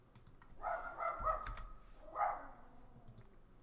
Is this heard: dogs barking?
yes